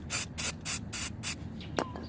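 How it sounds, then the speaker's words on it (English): Cleaner is sprayed onto the tip of a butane micro torch in five short, regular hissing bursts up close, followed by a small clicking tap and faint handling noises. "let's go ahead and give him a spray to clean out his tip"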